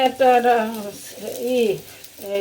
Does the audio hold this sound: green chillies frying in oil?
yes